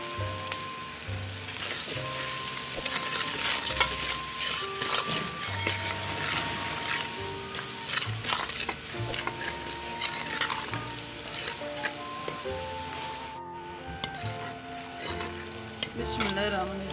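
Spices frying and hissing in a pan while being stirred, a steady close sizzle with scraping and clinking of the spoon running throughout.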